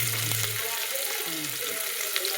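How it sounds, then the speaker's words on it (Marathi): Tempering (phodni) crackles and sizzles in a preheated pressure cooker, a fairly quiet continuous hiss with a few clinks and faint background voices. "आता डायरेक्ट कुकरातच फोडणी घालतोय"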